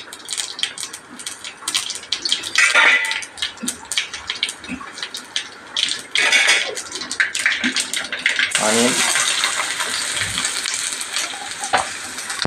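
Dried red chillies drop into hot oil with already-popping mustard seeds, starting as scattered crackles and then swelling into a loud, steady sizzling hiss; a voice speaks briefly over it.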